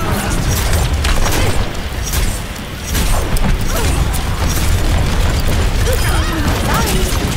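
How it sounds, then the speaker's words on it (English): Junkrat's grenades exploding in Overwatch amid dense, loud match noise, with thumping blasts, clattering mechanical sounds and pops layered continuously throughout. "Oh, those are Junkrat's grenades."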